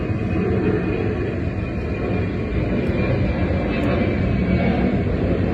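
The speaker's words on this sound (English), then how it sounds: "Here comes another plane." A plane passes overhead during a day trip to New York City, a steady, broad engine rumble and roar that holds at the same loudness from start to finish, with no voices over it.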